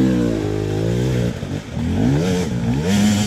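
Beta 200 RR two-stroke motorcycle ridden off-road, its engine buzzing loud and close, pitch wavering as the throttle opens and closes over rough terrain, with a brief dip before revving up again.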